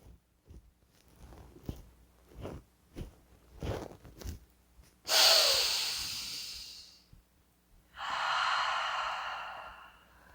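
Forceful pumped nasal exhales of Kapalabhati breathing, a quick rhythmic series of short sharp puffs, then two long sustained airy breaths, close and clear with no talking.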